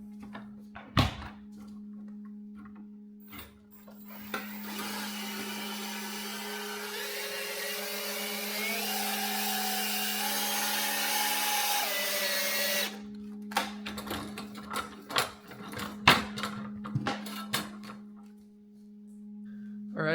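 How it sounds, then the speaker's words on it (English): A power drill spins steadily for several seconds, twisting a length of wire for a tensor ring, its whine rising in pitch before stopping, with clunks and handling clatter around it and a constant low hum beneath. "we've got our wire in the drill. We're going to twist it up."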